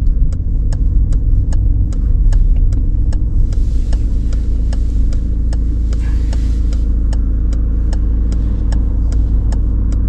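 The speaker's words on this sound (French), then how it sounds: "accélérer va aider la voiture, accélère Yacine" Car engine during a driving lesson, a loud, steady low drone from inside the cabin, with a regular ticking indicator clicking through most of it.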